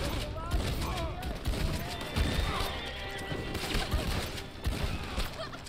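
In the Red Dead Online game, a horse whinnies amid clattering hooves, crashes and bursts of gunfire, a busy, loud mix of chaotic action sounds with voices talking over it.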